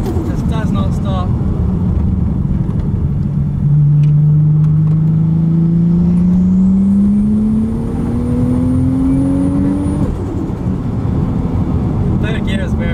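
A tuned 800 hp 2JZ-swapped Lexus Altezza engine revs up loudly with a rising drone, building for several seconds before easing off, heard from inside the cabin.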